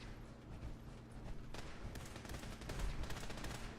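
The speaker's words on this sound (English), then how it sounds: "What are you shooting at?" Gunfire in the Fallout 4 video game: a brief burst of rapid shots and sharp cracks amid dense, rumbling game noise, fairly faint overall.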